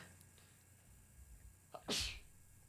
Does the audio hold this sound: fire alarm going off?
no